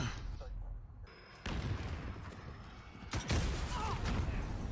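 Rocket blast in a video game bursts out mid-clip as a loud, broad boom with rumbling tail, surrounded by other gunfire-like crashes and game din.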